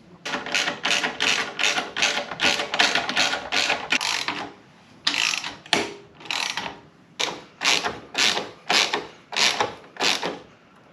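A ratchet tightens exhaust clamps on a Kawasaki ZZR1400 motorcycle, clicking in rapid, regular bursts of back-and-forth strokes close by. A short pause breaks the runs, and then the strokes resume more slowly and unevenly.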